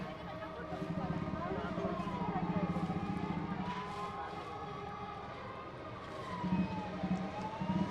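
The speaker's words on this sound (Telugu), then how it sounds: "కొంచెం లెఫ్ట్కి వస్తే అంబులెన్స్ వెళ్ళిపోతుంది." Ambulance siren passing in busy street traffic during a market festival, its wavering wail rising and falling steadily throughout over engine and crowd noise, with voices talking nearby.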